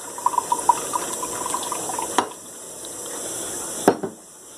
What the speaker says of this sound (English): And I'm pouring the soy sauce.